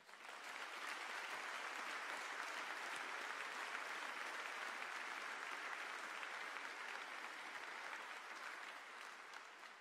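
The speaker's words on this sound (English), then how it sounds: "let's give each other a huge round of applause" Audience at a 2023 graduation ceremony applauding, a dense, even wash of clapping that holds steady for about ten seconds and eases off slightly at the end, heard from some distance.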